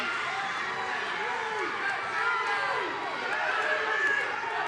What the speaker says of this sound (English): You hear this? This crowd is going insane.